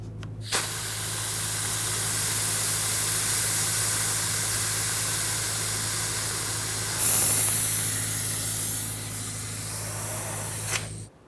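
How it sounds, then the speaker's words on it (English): A vacuum or fluid transfer pump draws brake fluid from the master cylinder reservoir of a 2000-2005 Ford Excursion, a loud steady hissing suction with a low hum underneath that surges briefly midway and then cuts off. "you can do that by using either a vacuum pump with a little reservoir on it or a fluid transfer pump"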